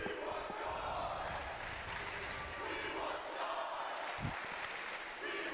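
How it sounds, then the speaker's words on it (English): A high school student section cheers at a basketball game between Lafayette Central Catholic and Guerin Catholic: a steady, roaring crowd wash fills the gym, with occasional ball bounces and a commentator talking over it. "the student section cheering something right now here"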